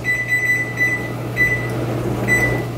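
An oven being set to bake at 375 gives short electronic beeps from its control panel, repeated in a few bursts over a steady low hum, close and clear with no talking.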